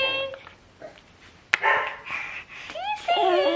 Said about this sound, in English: Oh, do you hear Sheppy barking?